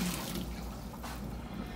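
Boiled hot water is poured into a pot for Haitian-style stew hen, a brief steady splashing pour close by with no talk over it.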